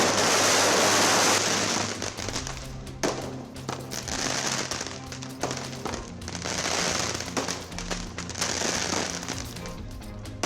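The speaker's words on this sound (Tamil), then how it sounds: "சென்னை ரோஹிணி திரையரங்கில் 85 அடி பேனரை வைத்து பட்டாசு வெடித்து கொண்டாடிய ரசிகர்கள்" Fans celebrating a film release outside Chennai's Rohini theatre set off firecrackers and fireworks, a dense run of sharp crackling bursts and pops, loud and close, swelling and easing in waves over a continuous background roar.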